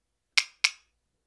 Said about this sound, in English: now let's make it two people doing finger snaps, slightly out of time to each other